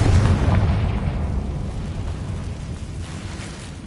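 A Confringo fire spell blast in the Hogwarts Legacy video game: a loud, deep, rumbling explosion that starts at full force and slowly decays over several seconds, with no voices.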